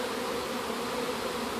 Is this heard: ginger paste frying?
no